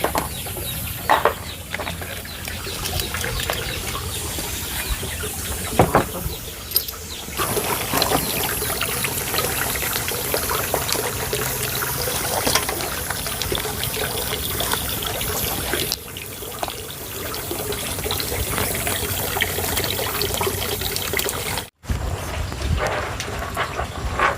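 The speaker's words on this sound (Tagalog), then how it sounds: "Isang sapa." A forest stream flows steadily, its broadband rushing and trickling water continuous and fairly loud throughout, with no talk.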